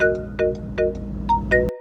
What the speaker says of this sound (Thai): จะมีไฟแจ้งเตือน3ครั้ง นะครับแบบนี้เลย